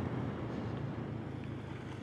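Steady wind rushes against the microphone on a Honda Click 125i scooter ride, with a low, continuous rumble, loud and unbroken throughout.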